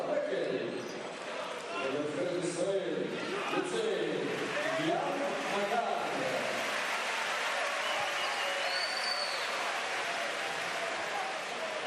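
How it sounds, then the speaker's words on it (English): An arena crowd applauds during an Israel versus Germany basketball World Cup European qualifier, a broad, sustained wash of clapping and cheering heard beneath a commentator's voice. "So Madar hears the applause."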